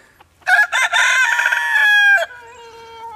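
A rooster among free-ranging chickens gives a loud, close crow that is long and strained and trails off at the end. It is heard alone outdoors beside a pile of split red oak.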